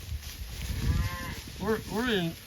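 Grass-fed cattle in a summer pasture moo twice in quick succession, close and clear, over a light background of outdoor noise, with no one speaking.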